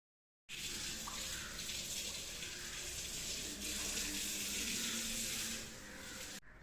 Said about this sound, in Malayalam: കാല് കഴുകി കയറണം